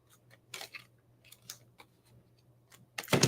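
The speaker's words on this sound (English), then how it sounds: "now there are 4 sets of scissors in here" Scissors handled up close: a few quiet metallic clicks and snips spaced irregularly, ending in a louder clatter, with a faint low hum behind.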